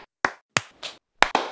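Five or so single hand claps snap out nearby, spaced unevenly with quiet gaps, each a short bright smack with a slight ring.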